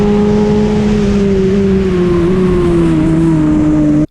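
Motorcycle engine held at full throttle on the Jerez circuit, a loud, steady high-pitched drone with the pitch sagging slightly, ending abruptly as the throttle shuts off.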